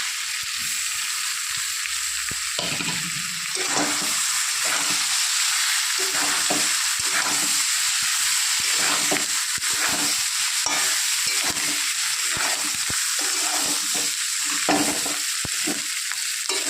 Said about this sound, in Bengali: মশলাকে কষিয়ে নিয়েছি এবার দিয়ে দেবো আদা বাটা